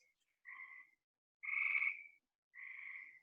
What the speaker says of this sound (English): Those frogs, Margaret